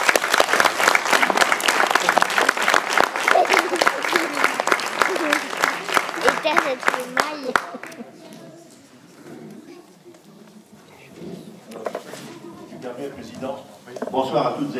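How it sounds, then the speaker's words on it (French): An audience applauds a veteran medal presentation from the Fédération musicale de Savoie at a Clique de Cruet band concert, loud dense clapping for about seven seconds that stops abruptly, then a voice speaks over quiet room sound. "On peut l'applaudir."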